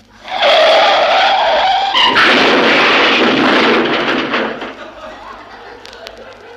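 A police squad car skids hard into an occupied loading zone as a radio drama effect, with a loud sustained tyre screech and engine roar that fades over the last two seconds.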